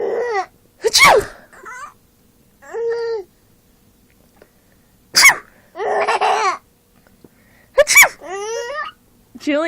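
A woman sneezes loudly several times while a baby laughs and babbles in delighted bursts between the sneezes, all close to the microphone.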